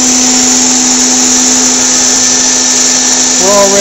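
A popcorn popper roasting coffee beans runs with a loud, steady whirring hum of its hot-air fan, the beans spinning inside, close and continuous with a brief voice near the end.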